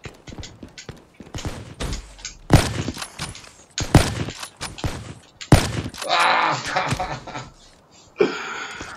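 Sharp bursts of gunfire crack in irregular volleys, some rapid, with a voice talking in between, in the video game Black Ops III.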